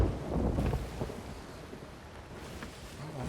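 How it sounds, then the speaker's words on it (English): Thunder rolls in a video game Sea of Thieves storm at sea, a deep, loud rumble with gusting wind and rain noise that slowly eases then swells again. "that freaking storm is loud today."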